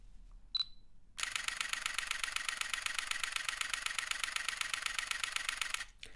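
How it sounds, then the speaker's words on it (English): Fujifilm X-T30 mirrorless camera firing a continuous burst at 8 frames per second with its mechanical shutter: one isolated click, a short pause, then a rapid, even stream of close shutter clicks for about five seconds before stopping. "So here's how the X-T30 sounds when it's shooting at 8 frames per second with the mechanical shutter."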